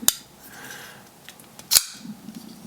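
A Shirogorov Quantum R1 Special Edition folding knife on multi-row bearings, new and not yet broken in, snaps open with two sharp, crisp clicks more than a second apart, close and loud against quiet surroundings.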